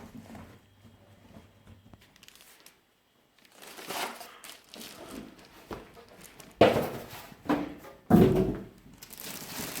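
Cardboard box holding a Deepcool MATREXX 55 ADD-RGB PC case being opened, with scattered rustling and tearing and several loud sharp rips and thumps toward the end, close up with no talk.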